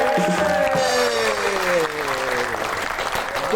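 A studio audience on a Pakistani comedy talk show claps steadily to welcome a guest, while background music with sliding tones plays over the applause.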